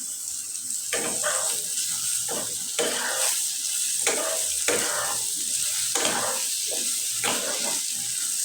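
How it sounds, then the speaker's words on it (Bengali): Spices and two chopped green chillies frying in a pan for mutton haleem: a constant close sizzle broken by regular scraping stirring strokes, with no talk. "মশলাটা সহ আমার ভাজা হয়ে গেছে"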